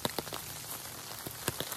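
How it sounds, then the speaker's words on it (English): Rain falls steadily at La Purisima Mission, where old adobe bricks are crumbling, as a soft constant patter with scattered sharper drips heard nearby, no voices present. "here today in this amazing rainstorm at La Purisima Mission"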